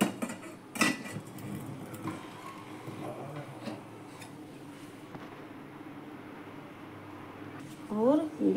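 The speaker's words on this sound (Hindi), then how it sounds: "अब हम इसे ढक देंगे।" Cooking pot on a gas stove being covered with its lid, a sharp metallic clatter near the start followed by a few lighter taps and a low burner hiss, with a voice talking nearby.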